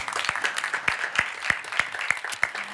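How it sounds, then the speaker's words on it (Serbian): A TV show audience applauds in a steady rhythmic clap, sharp strokes landing at an even pace, fairly close, over a bed of lighter scattered clapping and crowd noise. "Jedan aplauz za vas."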